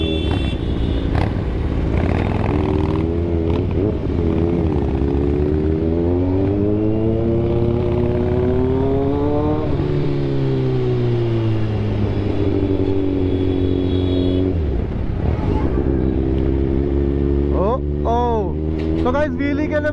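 A Harley motorcycle engine revs hard during a wheelie, a loud, continuous roar whose pitch climbs, holds and drops in long sweeps, then surges again near the end.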